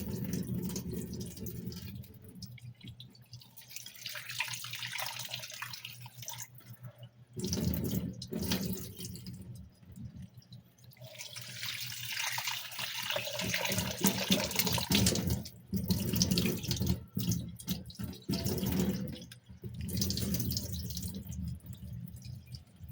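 Tap water runs steadily into a sink while items are washed and cleaned, the splashing stream rising and falling with brief pauses where the flow stops, then restarting; near and fairly loud, with no talking.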